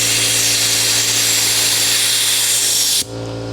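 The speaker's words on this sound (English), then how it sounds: "So I have to let our air compressor catch up." Air compressor running in a garage during coolant hose and radiator work on a 2008 BMW 335xi AWD sedan, a loud steady whine and hum that cuts off sharply near the end, leaving a quieter drone.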